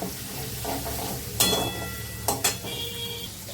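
Raw ginger and green chillies frying in hot oil, a steady close sizzle throughout with a couple of sharp stirring scrapes and clinks of a utensil against the pan.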